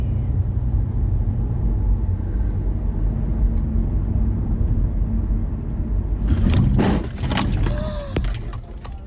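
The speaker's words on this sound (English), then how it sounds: "I just hit a car" A car on the road strikes another car: steady low engine and road rumble inside the vehicle, then a sudden loud burst of crunching, rattling impact noise near the end.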